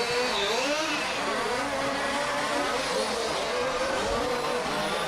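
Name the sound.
race car on full throttle down the main straight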